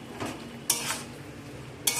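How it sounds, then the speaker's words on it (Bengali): A spoon stirs a pumpkin and Malabar spinach curry with a spoonful of sugar in a pan, giving soft scraping strokes over a faint sizzle, with two brisk louder scrapes standing out. "চিনিটা দিয়ে সব কিছুকে ভালো করে একসাথে নাড়াচাড়া করে মিশিয়ে দিচ্ছি।"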